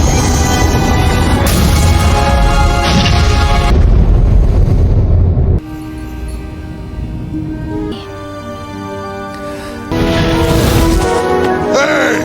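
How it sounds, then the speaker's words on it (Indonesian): A huge explosion rips through a superhero film scene, with loud booming rumbles and crackling debris that fade into a quieter, hollow stretch before a second surge of roaring blast noise. "Norrin kemudian mengerahkan semua kekuatannya untuk menciptakan ledakan yang sangat luar biasa"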